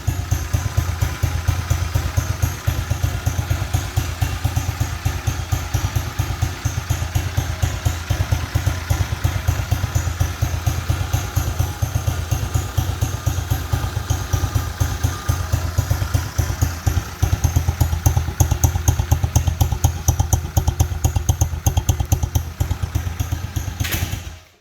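An SSR pit bike engine, one of the SSR 110 or 125 models, idles steadily and fairly quietly close by, its low, even thrum running without a break and with no talk over it.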